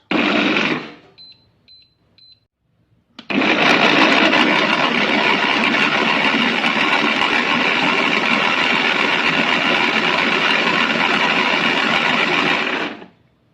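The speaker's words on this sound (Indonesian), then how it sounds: "Lalu kita blender halus." A kitchen blender purees ingredients for homemade tomato sauce, whirring in a short burst, pausing, then running loud and steady for about ten seconds up close.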